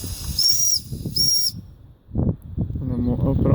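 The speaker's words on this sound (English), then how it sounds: "blow the whistle," A pre-WW2 Doll stationary steam engine from Nuremberg sounds its small whistle in two short shrill blasts, each with a hiss, followed by a voice speaking close by.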